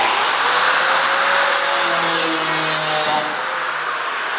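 A die grinder cutting through the steel rear quarter panel of a 1970 Dodge Challenger, a loud steady high whine with a faint tonal drone that dips slightly near the end.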